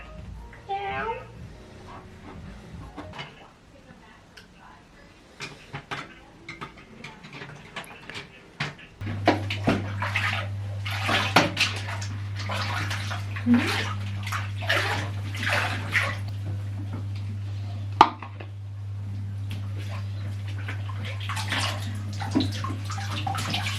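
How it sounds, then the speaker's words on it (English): Water in a home bathtub splashes and runs while a toddler plays, with intermittent sloshes and a steady filling hum through the middle; an adult talks softly over it. "See all the bubbles in your bath."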